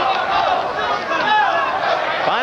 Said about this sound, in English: can hear a crowd here, part of it chanting Super Mo